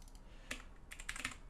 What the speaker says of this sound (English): Whoops. Lots of clicking noises.